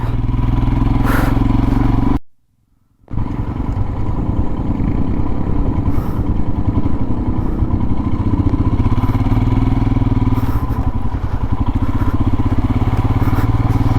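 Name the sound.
Royal Enfield Himalayan motorcycle on bumpy Zanskar road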